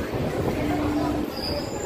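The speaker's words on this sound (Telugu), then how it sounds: "మన ట్రైన్ అయితే ఖమ్మం నుండి అయితే బయలుదేరిపోతుంది" A MEMU passenger train pulls out of Khammam station during station works, a steady loud rolling rumble with a faint squeal of wheels on rail running through.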